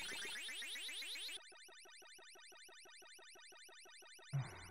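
Rapid electronic beeping from the Ms. Pac-Man video game, a fast repeating chirp pattern that shifts into steady pulsed tones, ending with a short thud.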